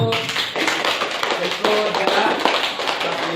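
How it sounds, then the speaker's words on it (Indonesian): A class clapping hands together in a classroom lesson, a brisk burst of claps that stays fairly loud and close for a few seconds. "Tepuk tangan untuk"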